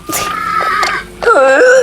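A horse in the video game 99 Nights in the Forest neighs twice in quick succession, a loud, close, wavering whinny.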